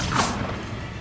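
The Bombarda spell is cast in the video game Hogwarts Legacy: a brief swooshing burst that ends in a dull thud and fades into the game's ambience.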